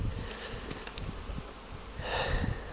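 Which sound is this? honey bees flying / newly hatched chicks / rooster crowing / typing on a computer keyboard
honey bees flying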